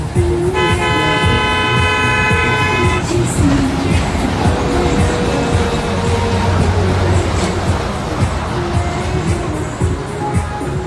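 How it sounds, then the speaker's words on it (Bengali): A children's ride train at a children's park in Cumilla gives a loud, sustained horn toot for a few seconds over a steady rumbling roar of the moving train and park ambience. "বাচ্চাদেরকে নিয়ে রেল লাইনে চড়তেছে, ট্রেনে"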